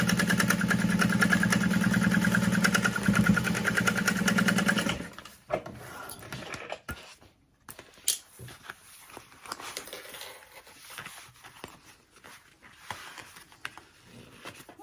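A sewing machine stitching a crossbody bag runs in a steady, fast mechanical whir for about five seconds, then stops, leaving faint handling and fabric rustles at low level.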